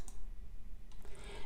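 Two crisp mouse clicks, close and fairly quiet, land at the start and again about a second later over faint room hiss.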